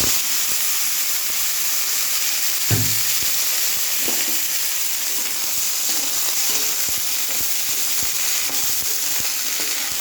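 Kohlrabi sautéing with bay leaf and cumin seeds in a pan gives a steady, close broadband sizzle with a few faint stirring scrapes and one soft knock, and no voices.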